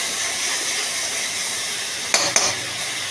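Spice paste of coconut, ginger and melon seeds fries in a pan with a steady close hiss and sizzle, broken by two short louder spatters near the end.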